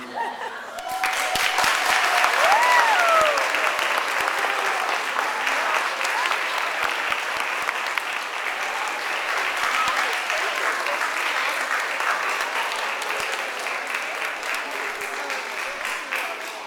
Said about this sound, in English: Let's have another huge round of applause for your teachers!